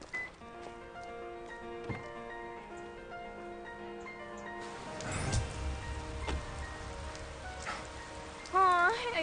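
Steady rain patters as a soft, even hiss throughout, under tonal background music, with a voice entering briefly near the end.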